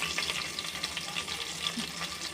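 Dried red chillies and garlic cloves fry in hot oil for a tomato moong dal tempering, giving a steady, close crackling sizzle with light stirring and no talk.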